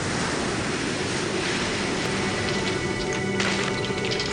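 Ocean waves crashing against permafrost cliffs: a loud, continuous roar of surf with wind, with a brighter surge of spray near the end, no voices.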